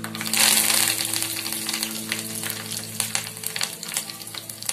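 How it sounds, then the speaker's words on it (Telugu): Dried red chillies and curry leaves crackle and sizzle in hot oil for a tempering for cucumber roti pachadi, with a loud burst at first and then irregular close pops. "ఇలా చిటపట్లు ఆడేటట్టు ఎండుమిర్చి ఇలా పోపు పెట్టేసేటప్పుడు కొంచెం దూరంగా ఉండండి"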